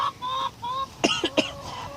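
Hens at an allotment cluck and squawk in short, close bursts, with a few sharper rising calls near the end; no one speaks.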